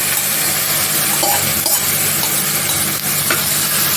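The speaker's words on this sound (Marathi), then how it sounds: "ते पण चांगलं आपलं चांगलं शिजेपर्यंत आपल्याला परतून घ्यायचे आहेत" Onion and tomato sautéing in a pan for South Indian rasam wada, a steady loud sizzle and crackle that runs the whole way through, with faint scraping from stirring and no talking.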